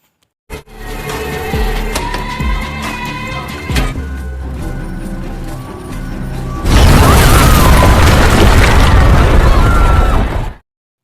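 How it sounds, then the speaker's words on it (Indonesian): An apartment blows up in the 2021 action film Jolt: dramatic film sound with sharp clanks gives way to a loud, roaring blast that fills the last few seconds and then cuts off abruptly. "Lalu Lindy sengaja meledakkan apartemennya agar musuh mengira jebakannya sudah berhasil membunuh Lindy."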